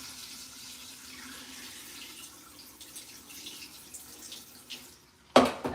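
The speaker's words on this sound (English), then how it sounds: "Rinsing on my rice, guys." Tap water running steadily into a sink while rice is rinsed, a soft continuous hiss that ends in a louder splash and clatter near the end.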